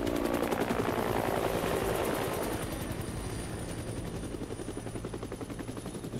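Helicopter in the video game Metal Gear Solid V: The Phantom Pain, a loud rapid rotor chop thudding steadily alongside bursts of gunfire, with the roar easing slightly but continuing throughout.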